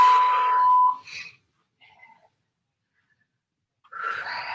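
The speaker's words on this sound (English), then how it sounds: "Ignore the beeps, we're just going to work through the beeps." A steady electronic tone sounds for about a second, then a couple of brief higher blips, a pause, and the tone returns near the end.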